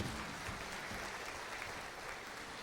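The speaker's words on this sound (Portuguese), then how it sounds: "vamos aplaudir ao Senhor por essas crianças" A church congregation applauds during a Sunday morning service, a steady, even wash of many hands clapping, fairly distant and soft, with no talking over it.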